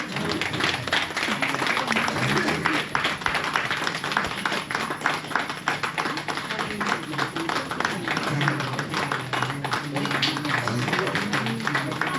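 Applause from a festival crowd at a lamp-lighting inauguration during a Lhosar fair, steady dense clapping that carries on throughout, with a murmur of voices in the background.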